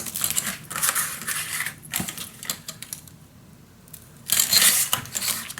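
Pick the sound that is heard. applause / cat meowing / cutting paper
cutting paper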